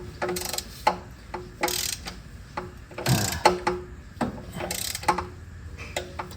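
A ratchet wrench tightens oil pan bolts on a 1988-1991 Honda Civic EF, giving loud, close rapid ratcheting bursts in uneven strokes with brief pauses between them; no talking.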